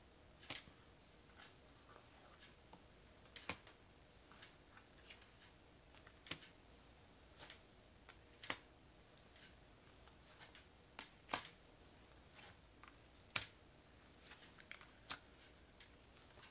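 Tarot cards are cut and spread across a table, giving soft scattered taps and light clicks, faint and close, with no talk.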